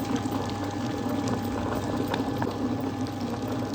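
A thick cooking mixture being stirred in a pot, a constant low bubbling churn with faint scraping and soft liquid movement, close and steady throughout.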